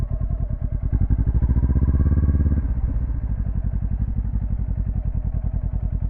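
Motorcycle engine during a slow-speed beginner drill, a steady low chugging putter near the mic with a brief rise in revs as the clutch is worked, then settling back to a rhythmic idle-like thrum.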